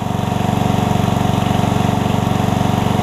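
An older Murray riding mower engine runs steadily up close, a loud even putter with a regular pulsing beat and no change in speed, no voices.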